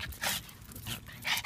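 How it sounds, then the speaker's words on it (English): Dogs play-fight in a sparring match, giving quiet bursts of growls, snarls and panting in an uneven rhythm, fairly faint and without talk. "Like a real dog fight."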